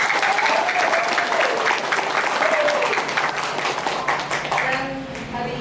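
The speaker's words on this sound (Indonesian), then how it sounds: "Tepuk tangan dulu." An audience claps at a ceremony switching on a village electricity grid, with loud sustained applause throughout and a voice talking faintly over it before the clapping tapers off at the end.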